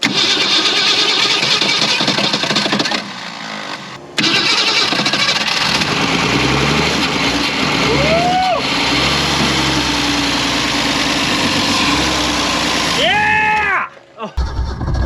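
A long-abandoned, previously stuck Ford Falcon engine runs loudly and roughly, its revs rising and dipping over the span, with a short lull and brief voices breaking in near the end before it cuts out.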